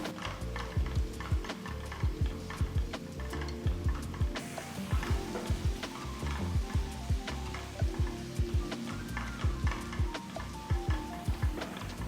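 Onion-tomato masala sizzles in a hot pan while a spoon scrapes and stirs in a steady repeating rhythm, close and moderately loud.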